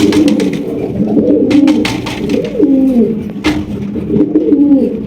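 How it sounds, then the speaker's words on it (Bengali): Lahori pigeons coo loudly and close up in repeated throaty, rolling phrases, several overlapping birds calling in a loose rhythm, with occasional wing flutters and clicks. "আরো এক জোড়া লাহোরি কবুতর মাশাআল্লাহ দেখেন অনেক বড় সাইজের"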